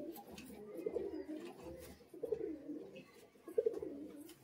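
Gobinda pigeons coo softly at close range, giving three low, throaty coos spaced about a second and a half apart.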